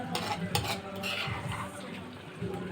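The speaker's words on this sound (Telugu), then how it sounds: "ఇప్పుడు ఇంట్లో గోంగూర వేస్తున్నాం." Gongura leaves dropped into a cooking pot and stirred, a few clattering utensil knocks against the pot followed by soft sizzling and stirring, close and moderately quiet.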